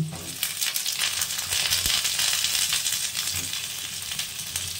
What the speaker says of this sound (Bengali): দেখো মোটামুটি ভাজা হয়ে গেছে, এবার দিয়ে দেবো শিম।